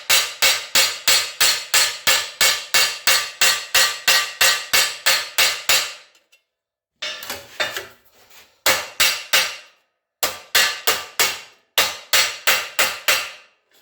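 Bent metal is hammered back into shape with a run of loud, close, evenly spaced ringing blows, about twenty in a row, then a pause and shorter bursts of strikes.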